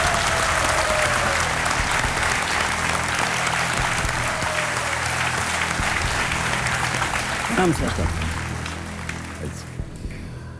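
A studio audience on the Indian TV quiz show Kaun Banega Crorepati applauds loudly and steadily for several seconds before the clapping thins out and fades.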